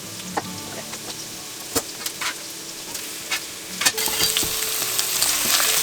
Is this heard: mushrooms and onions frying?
yes